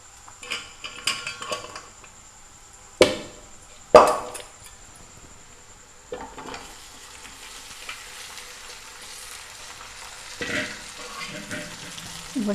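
Pepper chicken fry cooking in a pan with fried ginger and onion, with two sharp utensil knocks against the pan early on, followed by a soft, steady sizzle and occasional stirring scrapes.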